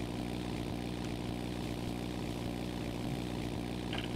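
A small tractor engine in Farming Simulator drones at a steady, even pitch throughout, a continuous close hum with no talking.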